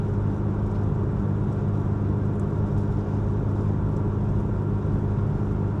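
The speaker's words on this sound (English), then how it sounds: "the engine sound is so characterful. It's definitely a Hillman Imp if you hear it" Hillman Imp small rear-engined car droning steadily from inside the cabin while driving on local roads, a continuous low engine rumble with no speech, holding even throughout.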